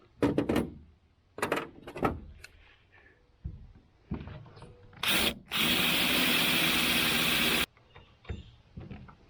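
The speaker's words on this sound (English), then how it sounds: "I'll drill that first hole out, and then I will mount this." Several short bursts of a power drill, then one long steady whine of drilling lasting a couple of seconds, close by with brief pauses between, drilling mounting holes in an old aluminum boat.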